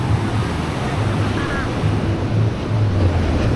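Surf washing steadily onto a wide beach on Sumatra's west coast on a sunny afternoon, a continuous broad roar with wind noise against the microphone and no clear talk.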